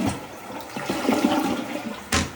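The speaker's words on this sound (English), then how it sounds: "Pretty quick flush." A household toilet flushes up close in a quick, rushing swirl of water, steady for a couple of seconds, then a sharp gurgle near the end, with no talking over it.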